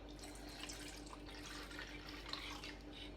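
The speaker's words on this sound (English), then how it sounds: "So first you should take the water, then just pour it into the bowl." Water poured into a bowl while making buttermilk, a soft, continuous trickling splash with faint bubbling, fairly quiet and steady for a few seconds.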